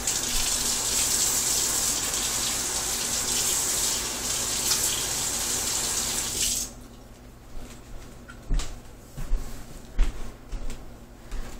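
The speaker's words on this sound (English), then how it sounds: "Quick blast under the water." Water running hard from a tap over a hot PVC hand-axe, a loud, steady rushing splash that cuts off partway through, followed by quieter drips, knocks and handling sounds.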